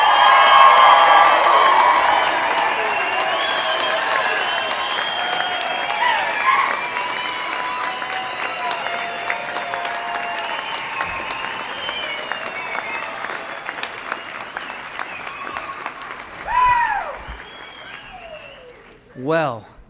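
Graduates at a College of Agricultural Sciences commencement are met by a large crowd's loud applause and cheering with whoops, sustained across the room and then tapering off, with a few shouts standing out near the end.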